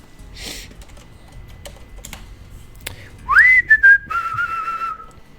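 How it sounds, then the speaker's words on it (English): Someone whistles a short rising note followed by a couple of held tones, after scattered keyboard clicks and taps. "He whistled"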